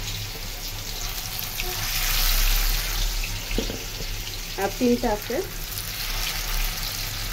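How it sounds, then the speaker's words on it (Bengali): Fish frying in hot oil, a loud continuous sizzle and crackle filling the whole stretch, with a brief voice speaking over it partway through. "এখন মাছটা ফ্রাই করে নিব। তেলটা গরম হয়ে গেছে।"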